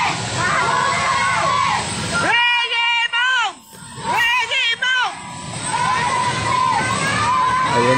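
An outdoor crowd at a bridge event in Davao City shouts and chants the name Duterte in loud, rhythmic repeated calls, with cheering and general crowd noise around the chant.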